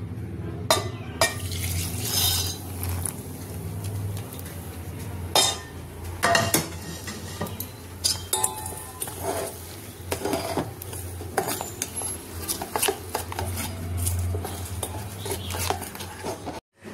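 A spoon stirs amla pickle with Kashmiri chili powder, spices and oil in a metal pan, making soft scraping and clinking sounds close by over a faint, steady low hum.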